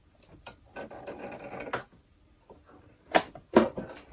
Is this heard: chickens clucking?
no